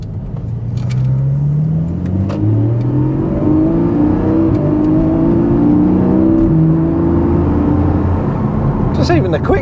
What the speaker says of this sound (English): the hills truly will be alive with the sound of flat sixes.